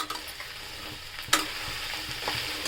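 Chana dal curry with potato fries in a pan while being stirred: a continuous close sizzle with spoon scrapes and one sharper clatter partway through, no voices.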